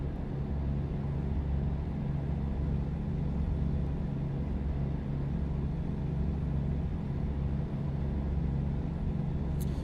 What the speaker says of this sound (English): this truck sounds incredible. That engine sound is beautiful.